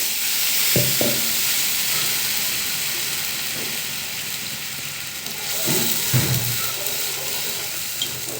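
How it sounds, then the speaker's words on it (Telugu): Tomato puree hitting hot oil with curry leaves and green chillies for egg biryani, a loud steady sizzle and hiss with a few clinks and taps of a spoon, no talking. "ఇదండి కరివేపాకు మిర్చి వేసాను ఇప్పుడు టమాటో ప్యూరీ వేస్తున్నా"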